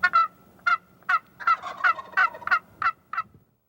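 A wild turkey gobbling loudly and close in the breeding season, about ten quick rattling gobble bursts in an uneven run.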